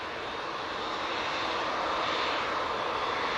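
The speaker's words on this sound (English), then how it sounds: "There is an arrival about to touchdown." A Qatar airliner's engines roar steadily at Manchester Airport, a broad, loud, continuous rumble and whine with no break and no voices.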